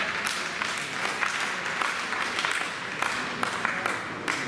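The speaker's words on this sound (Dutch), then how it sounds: "Applaus." Spectators applaud at a national badminton championship women's singles final in 2016, dense sustained clapping from an indoor crowd filling the whole moment.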